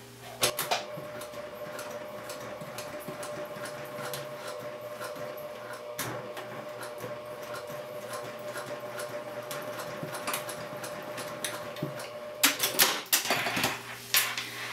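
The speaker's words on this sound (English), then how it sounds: "make sure to backstitch and sew slowly over the zipper" A sewing machine stitches slowly over a nylon zipper while a bag is being made, giving a continuous fine ticking mechanical whir, close and fairly soft, with a louder clattering burst near the end.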